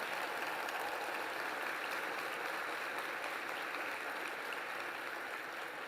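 A large conference audience at the Urban League's opening plenary applauding in tribute, a dense, even wash of clapping that holds steady throughout and sounds somewhat distant.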